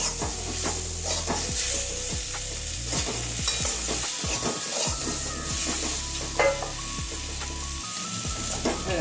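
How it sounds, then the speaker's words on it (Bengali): Potato and eggplant with turmeric stirred in a frying pan, with repeated spoon scrapes and strokes over a steady close sizzle and no talking. "হলুদটা একটু দিয়ে দেবো ভালো করে নাড়িয়ে নেবো"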